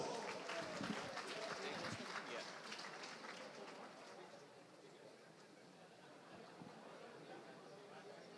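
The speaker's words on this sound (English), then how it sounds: "A big round of applause." Applause from the audience at a formal ball, greeting a raffle prize winner: a broad, distant wash of clapping with crowd chatter mixed in, strongest at first and slowly thinning out.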